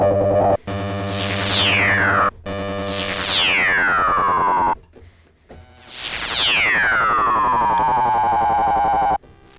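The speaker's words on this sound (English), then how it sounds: "you're going to get these weird ring mod amplitude modulation sounds like this" A self-oscillating filter on an Analogue Solutions Leipzig-S analog synthesizer, modulated at audio rate, produces ring-mod and amplitude-modulation tones. Loud metallic sweeps dive downward in three long passes, with short gaps between them.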